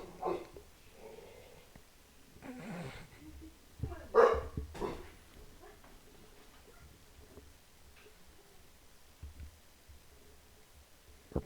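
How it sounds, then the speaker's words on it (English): A puppy barks in short, sharp bursts, a cluster of yips around the middle, over a quiet room with faint low hum. "We're pausing for one moment so the puppy can get the barks out."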